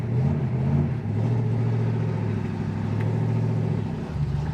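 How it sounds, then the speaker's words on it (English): A 1972 Mercury Comet GT idles at around 600 to 700 RPM, a steady, close, low rumbling engine note with a slight lope and no talking over it. "It's idling at about 600, 700 RPM."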